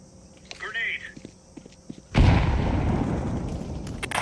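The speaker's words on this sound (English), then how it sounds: "Grenade." A grenade explodes in a video game as a sudden loud boom that decays into a long rumbling roar, preceded by brief speech and scattered light clicks.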